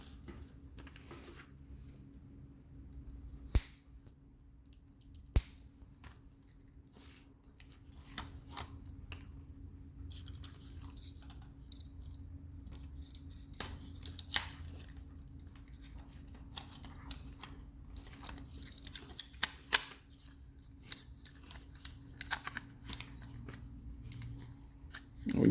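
Quiet, sparse snips and clicks of cutters trimming the excess tail off a plastic zip tie during a gauge install, mixed with soft handling noises and long quiet gaps.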